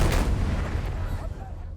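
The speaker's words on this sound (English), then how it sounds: "a group of riders gallop at full speed and then fire their rifles into the air in unison" Moroccan Fantasia horsemen fire rifles into the air in unison, making one loud, broadband blast that rolls on as a long rumbling echo and fades over about two seconds.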